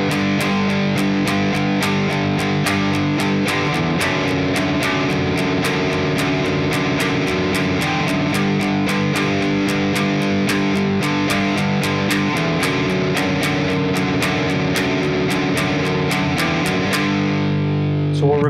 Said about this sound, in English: we've turned the distortion on at this point